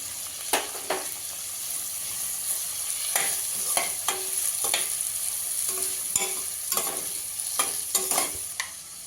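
Chopped onions sizzle steadily in a pressure cooker while a spoon stirs them, making repeated sharp scraping clicks over the constant frying hiss. No one speaks.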